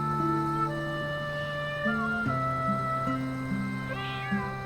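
Kittens meowing, several drawn-out tonal mews that overlap and shift in pitch, fairly close and clear with no talk over them.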